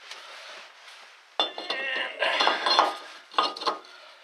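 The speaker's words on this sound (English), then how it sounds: "Okay, I'm going to put our new rotor on." A new front brake rotor goes onto a Ford Taurus hub with a run of irregular metallic clinks and clanks, close and fairly loud, after a quieter scraping start.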